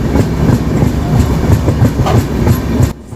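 A train with a flat wheel rolls along the rails, loud and close, with a steady rhythmic clickety-clack thump repeating throughout before cutting off at the end.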